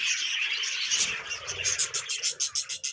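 Budgie chicks chirp from inside a clay breeding pot holding a clutch of five, a dense, continuous high twittering that turns into rapid, evenly pulsed peeps toward the end, close and fairly loud, with no talking.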